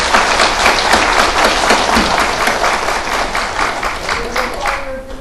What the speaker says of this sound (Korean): 대법원 판사님들께 우리가 감사하는 마음으로 박수 한번 올리겠습니다